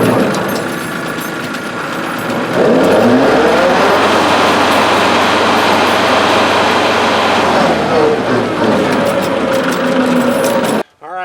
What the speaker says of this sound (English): Let's fire it up and see how the blades are going to do.